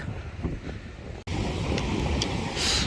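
Strong, steady wind gusting across an open coastal fishing spot at low tide, a loud, continuous broadband rush with a brief dropout before it resumes, buffeting the microphone.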